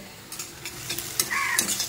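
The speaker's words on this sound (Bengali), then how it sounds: "পেঁয়াজটা বেশ ভালো মতো ভাজা ভাজা হয়ে গেছে, কষে গেছে।" Onions frying in a pan, a close, steady sizzle with a few quick scrapes of a spoon stirring through them, no voices.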